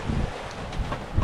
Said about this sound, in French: là ça y est, là on a le vent